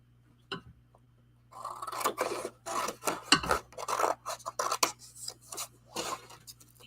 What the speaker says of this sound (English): you just keep moving your scissors with the paper and you're just literally making straight up and down cuts